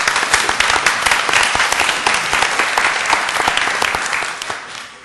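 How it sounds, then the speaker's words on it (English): Sustained audience applause at a board of governors meeting, a dense wash of many hands clapping steadily for about five seconds before tapering slightly at the end, with no talk over it. "I want to give you a big round of applause and thank you so much."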